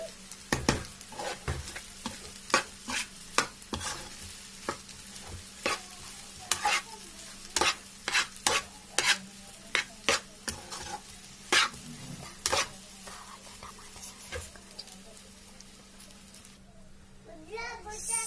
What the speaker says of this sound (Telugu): కొంచెం రైస్ని కూడా ఫ్రై అవ్వాలి